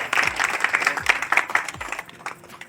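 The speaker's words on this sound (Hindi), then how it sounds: "तालियों में कोई कमी ना करें।" Audience at an awards ceremony for a foundation's anniversary claps loudly, an even burst of many hands with a few sharper individual claps that thins out toward the end, with faint voices underneath.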